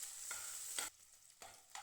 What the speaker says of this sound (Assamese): আৰু এইখিনি মই লৰাই লৰাই ভাজি থাকিলোঁ।